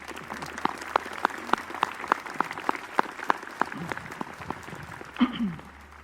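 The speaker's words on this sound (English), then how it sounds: "Give them another hand of applause." Audience applause for the 2nd Marine Division Band at a Jacksonville, North Carolina memorial ceremony for the fallen of the Beirut bombing, featuring sparse, rhythmic claps from a small crowd, followed by a brief voice near the end.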